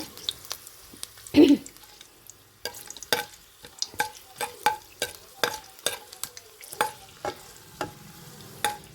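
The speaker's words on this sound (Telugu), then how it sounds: "మనం కోసి పెట్టుకున్నాం కదా ఉల్లిపాయ ముక్కలను పచ్చిమిరపకాయ ముక్కలు వేసేసుకుందాం" Chopped onion and green chili pieces frying in hot oil, with repeated scraping stirs of a spatula in the pan at an irregular rhythm over a soft, steady sizzle, close to the microphone.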